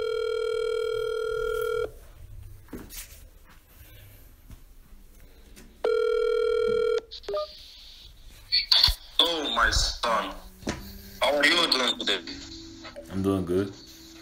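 Telephone call with two long ringback tones separated by silence, then a connection where voices talk back and forth over the line with a slightly compressed, phone-filtered sound.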